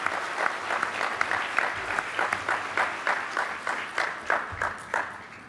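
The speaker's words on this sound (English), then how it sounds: "Let's give them another round of applause" An audience applauds young performers from Mongolia, a dense, steady wash of many clapping hands at moderate loudness, continuing without pause.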